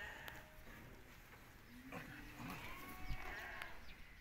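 Sheep bleating at a livestock sale for Eid al-Adha in Azrou, Morocco, with faint, scattered bleats over a steady background murmur of the market crowd.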